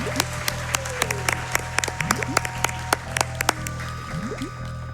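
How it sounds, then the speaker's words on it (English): Audience applause and scattered cheers at a Games Done Quick speedrunning marathon, a dense run of sharp claps over a steady hall hum, fairly close and continuous for several seconds. "Oh yeah, you can cheer for that. You can cheer for everyone back here."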